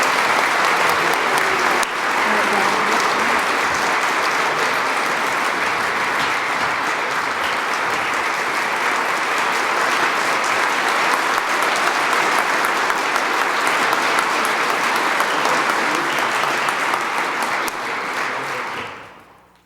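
Sustained, loud audience applause fills a breakfast award ceremony hall after an employee of the year is honored, holding steady throughout before fading out at the very end.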